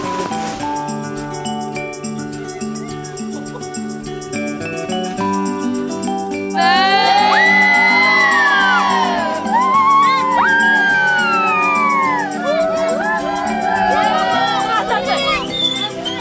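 Villagers and children cheering as visitors arrive at a village school in the high Pamir mountains, a lively crowd of overlapping shouts and high excited voices rising sharply partway through, over steady music and chatter.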